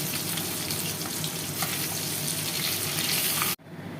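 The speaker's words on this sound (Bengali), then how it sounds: "মাছটাকে একটু লাল লাল করে ভেজে নিতে হবে" Pieces of bhola fish fry in oil, a dense, loud, continuous sizzle heard up close that cuts off abruptly near the end, followed by quieter sizzling, no voices.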